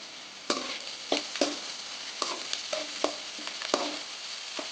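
Tomatoes sizzling and frying in a pan for a chickpea curry, with a utensil scraping and stirring in irregular strokes over a steady hiss.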